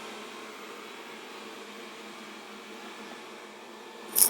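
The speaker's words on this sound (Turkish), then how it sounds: "Şu anda süpürge çalışıyor." A Xiaomi Mi Robot Vacuum Mop Pro runs with a steady, even mechanical whir humming continuously at low volume, with a brief bump near the end.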